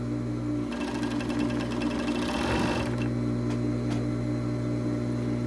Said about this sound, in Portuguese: Espicho e costuro, ó.